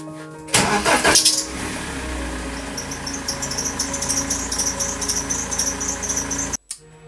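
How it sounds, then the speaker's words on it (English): A BMW 320d E90 with an M47 diesel engine cranks briefly, catches with a loud start, then settles into a steady rattling idle before cutting off abruptly. "I'm going to start the car"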